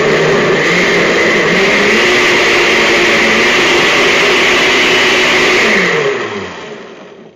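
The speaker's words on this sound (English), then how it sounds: "The reason I do this with the blender is because I left the peels in, this will help chop it up" A blender purees hot applesauce with the apple peels left in, running on low with a loud, steady whirring drone before slowing and winding down near the end.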